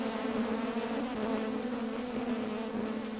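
Honeybees buzzing steadily and loudly at an apiary hive, a dense continuous drone close to the microphone with no pauses throughout.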